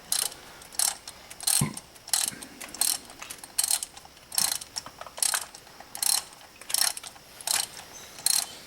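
A ratchet wrench clicks as it backs a spark plug out of a car engine, each burst of sharp ratcheting repeating in a steady rhythm of about a dozen close, clear strokes with no talking.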